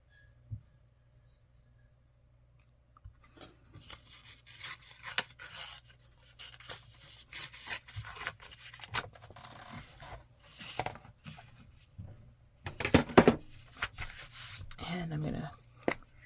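Scissors snip through a vintage paper envelope being trimmed down for a shabby chic tall tag, giving a run of close, dry cutting and rustling sounds with a few louder crunches near the end.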